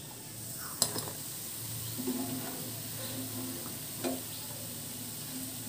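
Balushahi sweets deep-fry in oil with a soft, steady close-up hiss, broken by a few sharp clinks of a utensil against the pan, and no voices.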